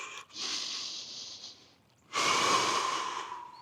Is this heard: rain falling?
no